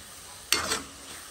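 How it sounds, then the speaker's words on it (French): A pot of river shrimp rougail in tomato is stirred once, giving a short scraping swish with a soft sizzle of the simmering sauce, close by and brief. "ça tourne un peu la marmite"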